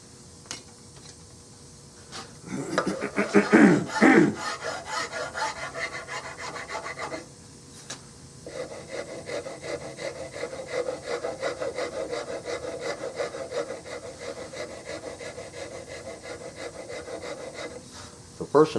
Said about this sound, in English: about the only way you can get rid of that is with sandpaper